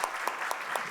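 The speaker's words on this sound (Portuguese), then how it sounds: "primeiro eu gostaria de uma salva de palmas aqui para a" A lecture audience gives a short burst of applause, heard as a few distinct claps at a regular pace, fairly faint and close together.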